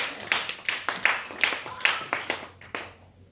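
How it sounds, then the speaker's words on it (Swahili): Scattered clapping from the audience at a church seminar on the word of God, a handful of sharp, uneven bursts of hands that thin out and stop toward the end. "Yes, makofi."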